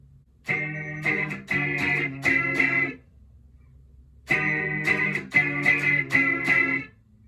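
A distorted electric guitar in drop C tuning plays a short chugging riff, pauses in near silence, then repeats it, loud and alone with no voices.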